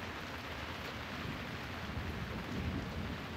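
Steady rain pours outside on a cold night, with low rumbling thunder rolling beneath the hiss throughout, fairly close and continuous without any talk.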